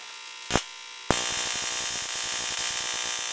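Upgraded spark plug tester firing a high-voltage spark: a brief snap, then a sharp crack that settles into a steady, loud electrical buzz.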